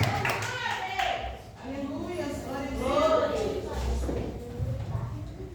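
A church congregation claps to welcome a woman preacher to the pulpit, scattered hand claps and taps at moderate level mixed with voices talking nearby.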